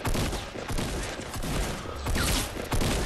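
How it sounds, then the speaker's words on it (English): Rapid, dense gunfire in a Fortnite squads match, with overlapping shots from several directions that swell in loud waves and continue without pause for the whole stretch. "we're getting shot from everywhere"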